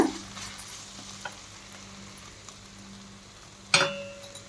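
Spicy tomato rice being stirred in a pan, a quiet low sizzle with soft scraping and a few light utensil clinks, including one sharper metallic knock near the end.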